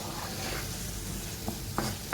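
Red peppers, green peppers and eggplant stirred in a pan without added fat, a soft continuous sizzle with a few light scraping knocks of the utensil near the end.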